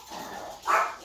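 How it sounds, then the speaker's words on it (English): An indoor dog, heard while rain falls outside, gives a single sharp, close bark after a softer whine, brief and loud against a quiet room. "And I hate dog barking."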